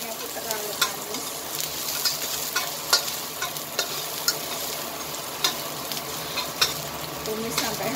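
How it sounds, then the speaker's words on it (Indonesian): Sardines stir-fry in a pan with a continuous soft sizzle, while a utensil scrapes and clicks against the pan at irregular intervals, close and fairly quiet. "Tumis sampai harum"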